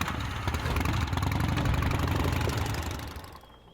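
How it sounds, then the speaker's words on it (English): Emilio's moped engine from Gabriel Knight 3 running steadily at a rumbling idle with a knocking, vibrating texture, loud and close, then fading near the end. "That's Emilio's moped."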